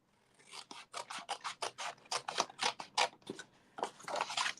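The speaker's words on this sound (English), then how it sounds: "I'm just going to cut up to that other score line." Scissors snipping through material along a score line, a quick series of about a dozen crisp close cuts in an uneven rhythm, quiet and with no talking.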